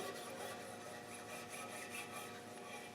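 Wire wool scrubbing residual grease from a Land Rover 300Tdi clutch spline, a continuous close abrasive rasping with steady back-and-forth rubbing strokes, no speech.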